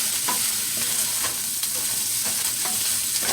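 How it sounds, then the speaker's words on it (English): Lamb meat browning in a hot pan, with a steady loud sizzle and frying hiss running throughout and several scraping stirs of a utensil against the pan. No one speaks. "So just getting that. Browning that meat."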